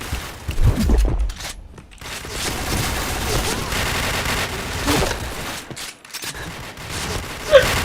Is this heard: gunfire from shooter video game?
yes